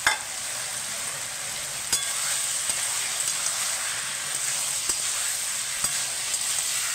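Vegetables fry in spiced oil in a pan with a steady, even sizzle, with a few sharp clicks of a spoon stirring against the pan and no talking.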